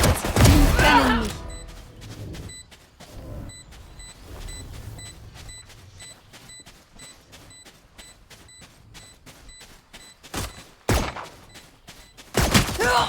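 A swarm grenade thrown in Valorant, with a burst of gunfire and thumps up front, then a series of evenly spaced small popping ticks. More sharp shots follow near the end, and a voice talks at the start.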